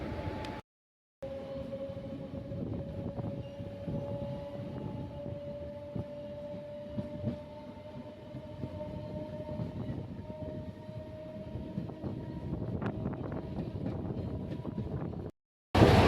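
A nearly empty special passenger train on the Coimbatore to Madurai route runs steadily, giving a continuous rolling rumble with a sustained tonal whine and faint rattles. The sound is heard from inside the carriage and stays even for most of the stretch.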